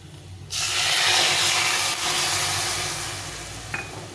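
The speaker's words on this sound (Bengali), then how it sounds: "দই না দিয়ে আমি দুধ দিয়ে দিলাম" Milk poured into a hot pan of frying taro and potato sets off a sudden loud hissing sizzle that roars up and then settles into a steady bubbling fry, with a light clink near the end.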